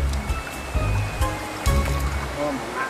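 Mountain stream water flowing steadily over rocks, a continuous close rushing wash with small splashes, where land crabs step from the bank into the creek.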